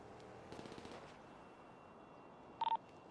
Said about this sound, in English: I heard gunshots out near by Davis.